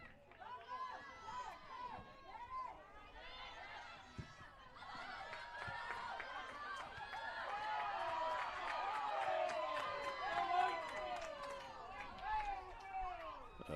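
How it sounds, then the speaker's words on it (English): A crowd of spectators at a college soccer match between Motlow State and Pellissippi State keeps up a lively murmur of chatter and cheering that swells midway. It sounds somewhat distant, and voices talk over it. "A pretty raucous crowd"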